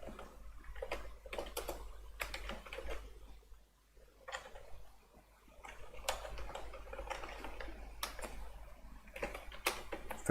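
A computer keyboard clatters in quick, uneven bursts of soft taps, close and fairly quiet, with a short pause midway and a low steady hum underneath.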